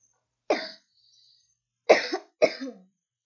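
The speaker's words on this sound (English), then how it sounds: "Sorry about all my coughing." Three short, harsh coughs close by: a single cough, a pause, then two more in quick succession.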